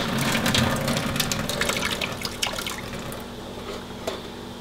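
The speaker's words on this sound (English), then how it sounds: "we're gonna drain all the water out of it" Pasta cooking water from a penne pot pours out past a tilted lid, a steady close gush and splash of liquid that slowly thins toward the end, with no talking.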